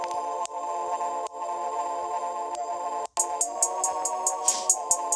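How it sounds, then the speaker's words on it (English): Sustained synth chords in a trap beat made in Caustic 3.0 play with a brief dropout near the middle, then continue under crisp repeating hi-hat ticks. "the chords playing so far so this is how it's sounding so far"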